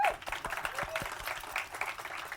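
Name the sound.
audience applause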